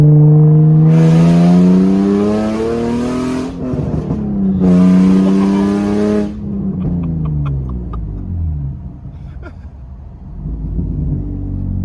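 A Nissan 350Z roadster with a full exhaust roars loudly up close in two long revs, then drops back to a rumbling idle broken by sharp crackles and pops. A voice is faintly audible underneath.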